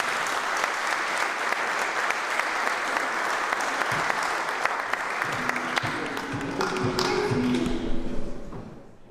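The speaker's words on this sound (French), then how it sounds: "S'il vous plaît, un tonnerre d'applaudissements." Audience applause at a public debate on secularism fills the room, steady and dense, then thins out and fades toward the end.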